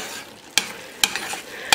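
Rice cooking too fast over a high gas flame, heard as a soft simmering hiss with three distinct scraping stir strokes, close and fairly loud.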